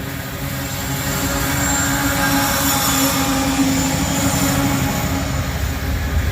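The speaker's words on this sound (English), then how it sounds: "All the noise is coming from the trucks in the rear end where the air compressor is." A northbound coal train locomotive rumbles past on a mainline, a loud, steady broadband roar of rolling rear trucks and the air compressor, with a sustained hum and no pauses.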